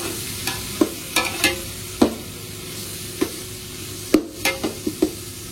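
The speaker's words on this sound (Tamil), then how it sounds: "எல்லாம் நல்லா வதங்கட்டும்" Vegetables sizzle steadily in a hot pan while a utensil scrapes and stirs in several sharp, irregular clacks.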